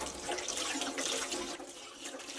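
Water poured over a person during a bath, a continuous broadband splash and rush of liquid lasting the whole moment, fairly close and steady with no talking.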